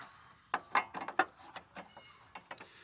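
Socket wrench breaking loose and removing a bolt on an air conditioner being stripped for scrap: a series of sharp metallic ratcheting clicks and clanks in irregular bursts, fairly close and moderately loud, with no talking.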